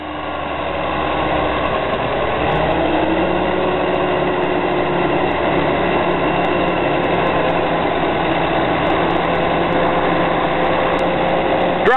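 A snowmobile trail groomer engine idling nearby, a steady low rumbling drone with a faint mechanical whine that holds unchanged for the whole stretch, no talking.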